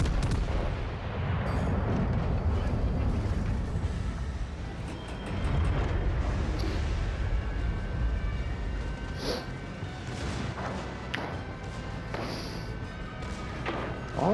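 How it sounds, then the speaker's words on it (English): Warship guns firing in World of Warships Legends, Graf Spee against Dunkerque: dense, continuous rumbling broadside booms and crashes, loud and sustained with repeated sharp blasts layered throughout. "All secondary guns fire already"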